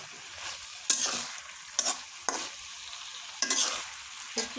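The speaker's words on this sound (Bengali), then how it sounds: "সবজিটা ভালোভাবে কষাইতে হয়।" Vegetables are stirred in a hot pan. Steady close sizzling runs through it, and spatula scrapes and stirs come every second or so, with no voices.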